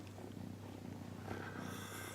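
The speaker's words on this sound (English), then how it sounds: "Go on, purr into the mic." A cat purrs close to the microphone, a faint, steady low rumbling purr with soft rhythmic pulses lasting about two seconds.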